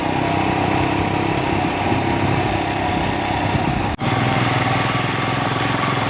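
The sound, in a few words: motorcycles riding a rough dusty road in Ladakh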